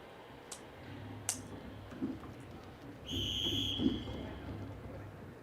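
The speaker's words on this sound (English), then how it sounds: "So whistle blows and we're about ready to go." A referee's whistle sounds a short steady blast before the start of a sprint heat at an indoor banked track meet, fairly quiet amid faint arena ambience and a few clicks.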